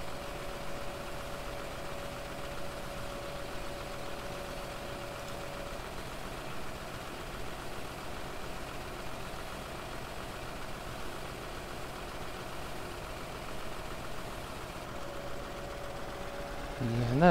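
Tractor and forage chopper engines in Farming Simulator run at a steady idle-like drone while silage unloads, a continuous low mechanical hum throughout with a faint voice over it.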